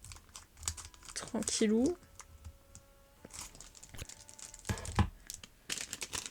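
Plastic packaging of an Amiibo Animal Crossing card booster pack is cut open, giving small crinkles and snips mixed with a person talking close by.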